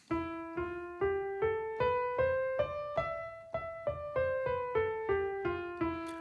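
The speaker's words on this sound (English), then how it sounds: "So our Phrygian scale sounds like this." A Phrygian scale of single plucked notes, about fourteen evenly spaced, ascending then descending, played alone and clear.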